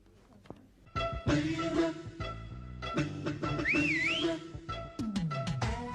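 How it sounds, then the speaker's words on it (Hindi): Someone whistles outside a house, a single bright rising-and-falling whistle cutting through busy background music and movement in a comedy scene. "अरे ये सीटी किसने बजाई?"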